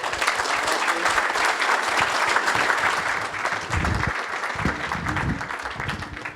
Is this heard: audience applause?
yes